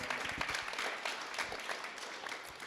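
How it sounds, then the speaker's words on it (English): Audience applause for a panelist at an arts discussion event, a fairly quiet, continuous patter of many clapping hands heard at a distance throughout. "So let's give Cal a big round of applause"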